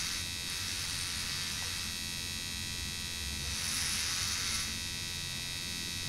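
Electric shaver buzzing steadily through a shave in the Heavy Rain video game, a continuous close hum with a mains-like drone that swells briefly in the middle, with no talking.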